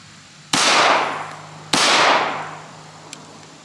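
Two loud, sharp gunshots from a Bryco Jennings 9mm semi-automatic pistol at a shooting range, about a second apart, each with a long decaying echo, and no talk.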